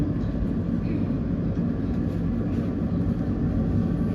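London Overground Weaver line train bound for Enfield Town, heard from inside the carriage as a loud, steady low rumble and rolling drone that holds without break.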